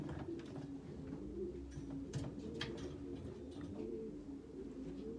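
Racing homing pigeon just back from a 600 km race, cooing steadily at close range in a loft, with other birds murmuring and faint chirps in the background.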